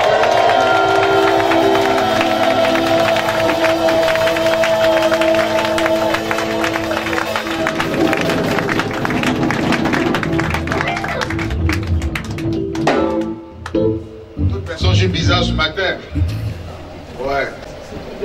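A church congregation at a Sunday thanksgiving service cheers and applauds for Jesus, a loud sustained wash of crowd noise and clapping with voices and music, thinning toward the end into scattered sounds.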